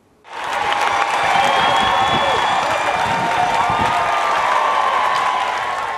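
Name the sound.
crowd cheering and applauding the new Prime Minister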